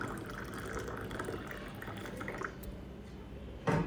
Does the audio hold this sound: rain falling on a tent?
no